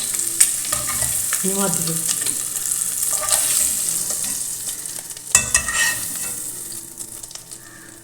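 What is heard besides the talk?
eggs roasting in a little coconut oil for egg biryani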